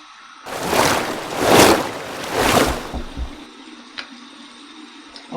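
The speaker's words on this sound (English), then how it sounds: "here's my cold water rinse." Cold tap water runs and splashes during a rinse after a wet shave, several loud surging waves of splashing that swell and fade, then quieter drips and small clicks.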